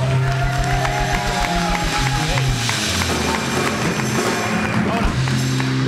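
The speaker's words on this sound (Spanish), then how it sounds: "un fuerte aplauso para él." On a comedy show set in a bar, a crowd claps and cheers for a comedian over loud rhythmic music with a thumping beat, the noise swelling midway and holding steady.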